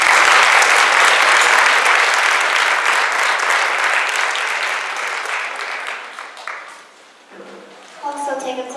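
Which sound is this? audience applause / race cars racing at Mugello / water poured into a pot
audience applause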